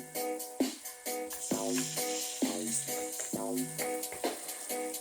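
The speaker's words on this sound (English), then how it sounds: "Sauteing the garlic, and I'm going to add the tomatoes in there as well." Garlic and tomatoes sauté in a pan for a brown stew porgy fish dish, giving a steady, soft sizzle under melodic background music.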